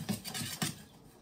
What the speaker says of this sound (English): now just stir that up